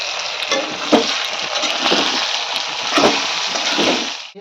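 Pork and pineapple chunks fry and get stirred in a pan, a steady close sizzle broken by several scraping stirs, with no one talking.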